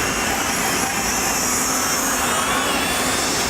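A WLToys Q353 triphibian RC craft runs its motor at throttle with a loud, steady, high-pitched electric whine and rushing hiss. It holds constant and close the whole time, with no voices.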